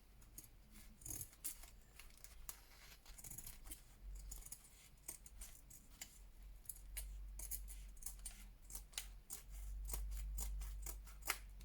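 Paper being trimmed with scissors for a collage page, a series of quick, close snipping cuts with light rustling between them, no talk.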